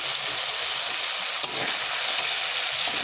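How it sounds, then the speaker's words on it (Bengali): Spiced teasel gourd with turmeric frying in a pan, a loud, dense, even sizzle hiss filling the whole stretch, with a faint stir or two and no voices. "হলুদ গুঁড়োটা দিয়ে আবারও আমি ভালো করে নাড়াচাড়া করে নেব"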